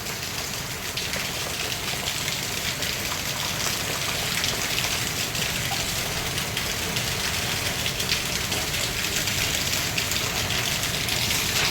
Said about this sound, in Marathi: परत आज पावसाची आहे ती पण बॅटिंग चालू आहे पण छान.